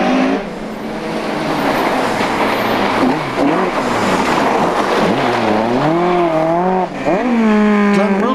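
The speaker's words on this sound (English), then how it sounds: "but it's Keith White Escort which is fastest of the two-wheel drive cars" A two-wheel-drive Ford Escort rally car races through a stage at the Lurgan Park Rally, its engine loud and close, revving hard with rising and falling pitch through gear changes and without a break.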